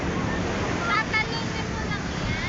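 Ocean waves and surf rush and wash broadly, with wind buffeting the microphone and faint voices mixed in.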